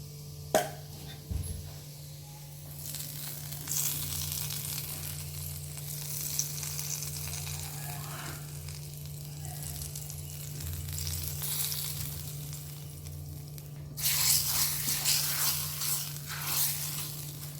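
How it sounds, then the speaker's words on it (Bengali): Chili powder sizzles in hot ghee while methi shak cooks, a steady broadband frying hiss that runs the whole time, with a brief clatter near the start and a louder, brighter surge of sizzle toward the end. "ঘিটা আমার গরম হয়ে গেছে, তো আমি এর মধ্যে 1 চামচ লঙ্কা গুঁড়ো দিয়ে দিচ্ছি"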